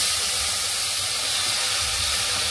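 Tomatoes tipped into a hot pan for tomato soup sizzle and steam loudly in a continuous, even hiss, close and with no speech over it.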